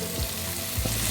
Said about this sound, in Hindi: मैंने सारे पटल को कोई स्पैचुला से पलट लिए हैं।